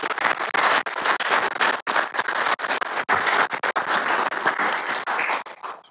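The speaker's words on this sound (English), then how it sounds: "So a big round of applause for" Audience applause at a county commissioners meeting, loud dense clapping that swells and dips in bursts with brief gaps before trailing off near the end.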